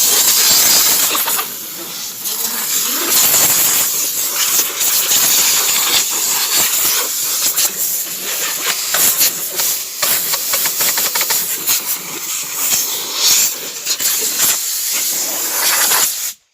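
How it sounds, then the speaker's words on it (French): A compressed-air blow gun clears dust off the grille of a New Holland Roll-Belt 180 baler in a long, loud, close hiss that surges and wavers for about sixteen seconds before cutting off abruptly. "Un coup de soufflette sur la grille."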